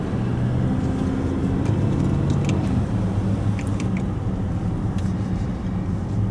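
A Range Rover Vogue luxury 4x4 shifted into drive pulls away, its low engine and road rumble steady and close inside the cabin, with a few faint rattles and clicks over the hum.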